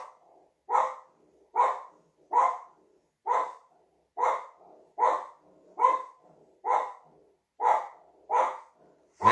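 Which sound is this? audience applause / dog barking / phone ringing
dog barking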